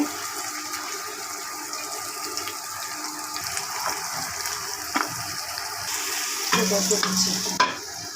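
Katla fish pieces frying in hot oil in a pan while being stirred, a loud continuous sizzle with scraping strokes of the spatula and a clatter toward the end, no speech.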